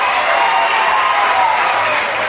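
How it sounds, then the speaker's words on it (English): A crowd at a women's Australian rules football match, South Adelaide against Glenelg in the SANFL, roars and applauds after a goal, a loud, steady wash of clapping and cheering that holds without a break. "The crowd will roar."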